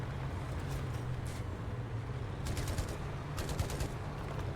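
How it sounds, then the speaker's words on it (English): A tank's machine gun fires in a tank video game, with short rapid bursts of shots rising above a steady low engine rumble throughout. "I'm using my machine gun here to figure out where he's at"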